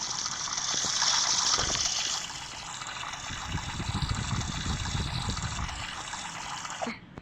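A tap runs for hand washing at a sink, a fairly loud gushing stream that eases into a softer splashing trickle as hands move under it, then cuts off near the end.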